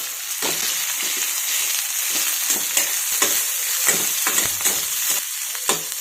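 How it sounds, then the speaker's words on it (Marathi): Tomatoes, green chillies and tamarind fry in an oiled pan with a steady close sizzle, punctuated by frequent quick scraping stirs in an uneven rhythm. "टोमॅटो परतत आला की हिरवी मिरची आणि चिंच"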